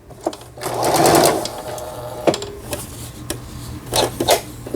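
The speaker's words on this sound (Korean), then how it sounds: "땀수를 넓혀보고 촘촘하게 해보고 지그잭 바느질" A Singer 3722 household sewing machine stitching in short close bursts of rapid mechanical chatter, with clicks and handling noises between runs of the needle.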